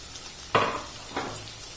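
Minced meat keema frying in oil in a pan as coarsely cut green chillies drop in, giving two sharp bursts of sizzling hiss that fade back to a low, steady crackle.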